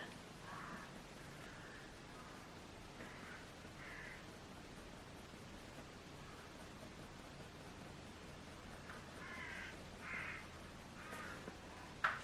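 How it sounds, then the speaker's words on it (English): Faint outdoor crow caws come in scattered bursts over steady background hiss, distant and intermittent. "So many crows around here."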